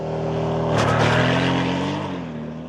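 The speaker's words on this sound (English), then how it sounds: "we feel that there's still a lot of road noise coming through the vehicle" Steady low road and tire rumble inside a new Porsche Panamera on the move, a continuous droning hum that swells slightly midway, with no one talking.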